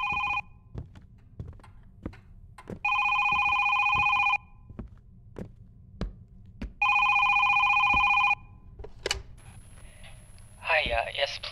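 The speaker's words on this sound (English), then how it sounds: "Phone's ringing." A telephone rings in the horror video game Is Simon There?, two long electronic ring bursts separated by quiet gaps with ticking and thuds, followed by a brief voice-like burst.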